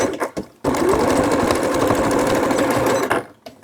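Sewing machine stitching a seam on a baby's beach poncho, one loud, close, continuous run of fast whirring lasting a few seconds, with brief handling noises before and after.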